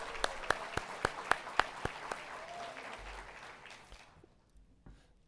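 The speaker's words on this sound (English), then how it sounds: "Let's give them all one round of applause." Convocation audience applause: a burst of sharp, loud claps at first, tapering into a softer, thinning ovation that fades out near the end.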